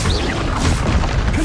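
A Confringo fire-spell blast in Hogwarts Legacy, a short loud booming burst with crackling debris, heard alone and close.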